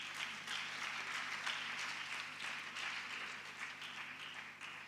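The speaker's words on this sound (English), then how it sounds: "So let's clap for HACI." Audience applause at a girl child summit event, a steady sustained wash of many hands clapping throughout, moderately distant and soft, with no voices over it.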